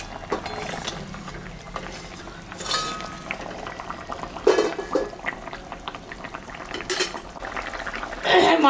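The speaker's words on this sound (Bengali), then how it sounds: "ঝোলটা ফুটে গেছে, এখন আমি মাছটা দিয়ে দেব।" Tengra fish added to a pot of thin, boiling fish curry, with scattered clinks of a metal lid and utensils, a bubbling simmer and soft splashes across several seconds, no talking.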